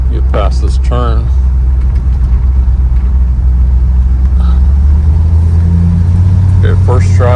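A 1964 Ford Galaxie with an out-of-round front drum brake drives along with a loud, low engine and road rumble inside the cabin, dipping as the car brakes, while someone talks over it.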